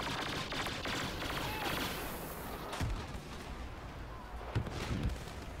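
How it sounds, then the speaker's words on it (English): Blaster fire crackles in Star Wars Battlefront on Tatooine during a Walker Assault match, with dense overlapping shots and distant booms filling the battle, plus a few sharper nearby bursts. "I'm liking this gun quite a lot. I believe it's Boba Fett's weapon"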